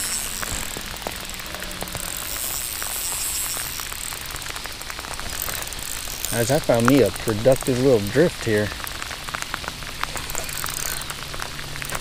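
Steady rain patters continuously while a man fishing from a drifting boat talks over it, with a brief stretch of voice standing out midway.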